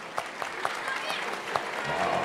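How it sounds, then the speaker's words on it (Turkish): Quiet audience applause at a talk event as a young fan is welcomed on stage, soft steady clapping with a few sharper claps standing out, and a voice speaking over it toward the end. "alkış"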